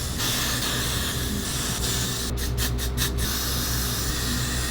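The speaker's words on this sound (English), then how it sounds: "Time for spraying." Pink hair colour spray hissing from a can in a steady, close, continuous spray, with a few short pulses near the middle and a low background hum underneath.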